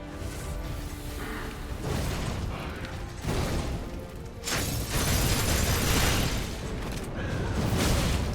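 Weapons fire repeatedly in Dark Souls 3 during a boss fight against the Soul of Cinder, heard as loud bursts and booming whooshes that surge in waves over a constant rumbling game soundscape.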